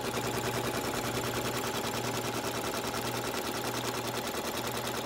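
A Janome MC 9850 embroidery machine stitches out a patch, giving a steady, continuous rapid mechanical whir with a faint hum throughout, close and fairly loud, with no talking.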